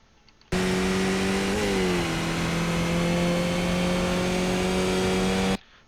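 Skip Barber race car engine in iRacing, lapping Daytona's moto track: a loud, steady mid-pitched drone held close, with a brief pitch dip where the car shifts up a gear before it keeps pulling strongly.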